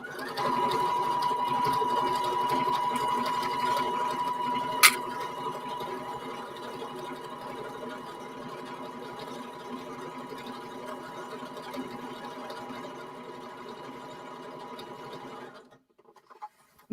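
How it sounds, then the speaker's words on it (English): Sewing machine running steadily for about fifteen seconds as it stitches back and forth over a hole in fabric, close and even, with a brief high tone near the start and stopping abruptly at the end. "You want to make sure you're sewing it down properly."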